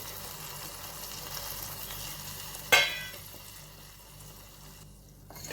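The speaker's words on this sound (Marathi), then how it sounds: "आता हे जे वरचं गरम पाणी आहे हे मी भाजीमध्ये घालते" Hot water is tipped into a pan of traditional Maharashtrian mixed vegetable curry, making a brief loud splash and hiss over a steady low sizzle that then settles back to a quiet simmer.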